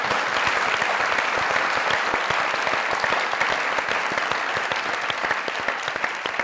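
Steady, dense applause from an audience welcoming a Pakistani film star, loud and continuous throughout with no talk over it.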